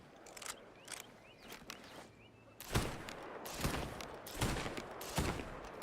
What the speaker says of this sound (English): Pop off a couple shots, and there you go.